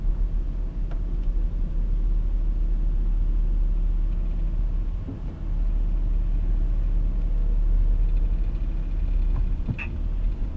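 A car's steady road rumble from inside the vehicle while driving in traffic, a continuous low drone with mild swells and brief dips, no talking.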